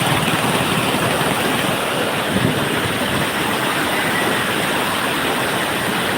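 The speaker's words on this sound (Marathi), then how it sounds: "पानी पानी वाहतो खाली" Water flows downhill in a loud, steady, continuous broadband rush that holds an even level throughout, close by and alone with no voices.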